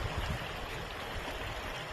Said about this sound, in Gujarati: માલણ નદીમાં આજે નવા નીર આવ્યા છે